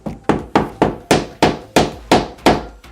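A hammer strikes a separating rebate on a wooden door frame to flatten it, giving about nine sharp, evenly spaced blows in a steady rhythm, close and loud, with no voices.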